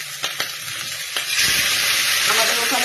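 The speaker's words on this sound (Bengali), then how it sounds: "মাছটা ভাজতে দিয়ে দিলাম।" Small river fish are dropped into hot oil in a pan, with a few clicks followed by a sudden, loud, close sizzle that keeps going.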